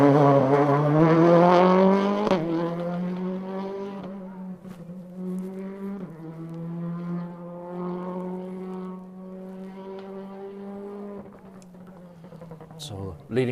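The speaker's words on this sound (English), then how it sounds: "Very distinctive sounding Peugeot." A Peugeot 208 rally car runs through a stage at a rally in West Cork, its engine note droning and shifting pitch as it passes and fades, with commentary over it.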